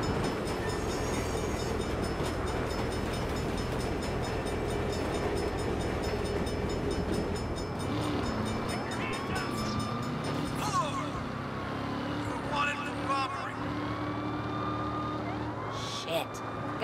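A train rumbles steadily past in the Saints Row video game during a police chase, its continuous roar layered with wailing police sirens and traffic noise.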